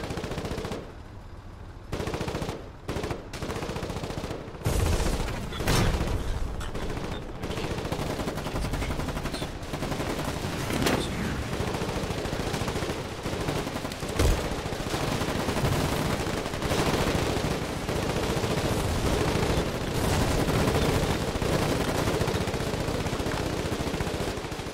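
Gunfire in the war video game Foxhole during frontline fighting, dense bursts of rifle and machine-gun shots cracking in rapid irregular volleys, loud and continuous throughout with no pauses.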